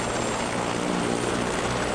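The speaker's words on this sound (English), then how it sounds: "This is a Eurocopter A-Star, AS350B2." A Eurocopter A-Star AS350B2 helicopter with a 745-horsepower turbine engine runs close by, a loud, steady whine and rush without pause or change.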